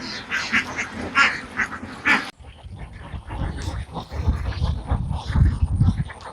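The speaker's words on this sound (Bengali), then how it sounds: "তারা এভাবেই সারাদিন মাঠে চড়াবে হাঁসগুলো" Ducks quacking while grazing in an open field, a busy flock with overlapping nasal calls, some loud and near, others farther off.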